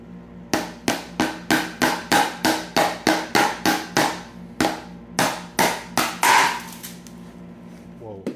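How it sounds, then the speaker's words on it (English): A hammer strikes a chisel against an airtight seed vault container, about twenty sharp, rhythmic metallic blows in quick succession with a brief pause, close and loud with no talking. "you might need a hammer and a chisel to open this up because it's airtight"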